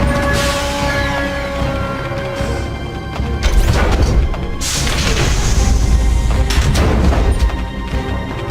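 A radome is blown apart in Metal Gear Solid: The Twin Snakes, a run of loud crashing, booming destruction with metallic smashes and rumbling debris that carries on for several seconds.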